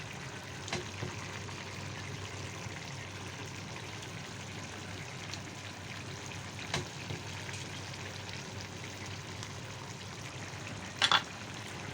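Eggs fry in a pan with a steady, close sizzle and crackle that goes on throughout, broken by a few faint clinks and one brief sharp knock near the end, with no voices.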